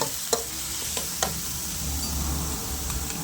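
Thai eggplant stir-frying in a pan with a steady close sizzle, a few sharp clicks of a utensil against the pan scattered over the top.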